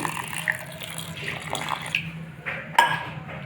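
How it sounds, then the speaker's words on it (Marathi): Water splashes and trickles into a mixer jar at close range while making chutney with urad dal, with faint clinks of a vessel and soft background noise. "थोडं पाणी टाकायचं आहे आपल्याला"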